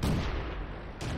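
A tank cannon in World of Tanks fires a single loud, close blast with a heavy boom that rolls off, then a second sharp report starts right at the end.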